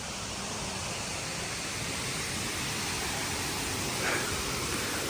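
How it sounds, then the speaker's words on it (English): A waterfall rushes in a steady, loud broadband roar, near and continuous with no break, filling the whole stretch while a faint voice briefly rises above it near the end. "My first waterfall."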